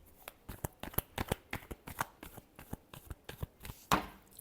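Tarot cards are shuffled by hand in a quiet room: a steady series of soft, crisp riffling slaps and flicks, one every fraction of a second, close and fairly faint, with no talking.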